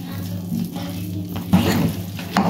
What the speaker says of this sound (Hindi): इस स्टेज में हमने जो घी बचाया था वो भी डाल देंगे